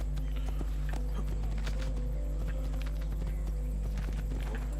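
Hooves of a black horse clip-clopping steadily in Assassin's Creed 2, a close, continuous rhythmic trot over a constant low rumble, with no talk.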